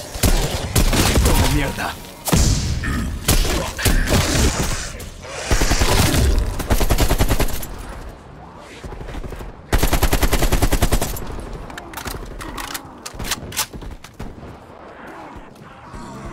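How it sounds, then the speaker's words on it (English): Shotgun blasts in Black Ops Cold War Zombies, loud bursts firing in quick clusters with heavy booms and rapid follow-up fire, tailing into quieter scattered shots, with a brief spoken exclamation between them. "I will put this shotgun to work."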